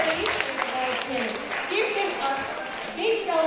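Students at a school Science Day quiz give a round of applause to a team. Scattered clapping runs under a voice that keeps talking throughout.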